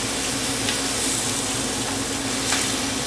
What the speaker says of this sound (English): we're going to continue stir frying this for another 2 minutes.